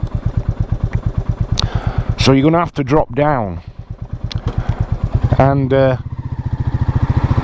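Single-cylinder Royal Enfield Meteor 350 motorcycle engine thumping steadily at low revs while riding in too high a gear up a steep hill, a close, rhythmic putter heard under someone talking throughout.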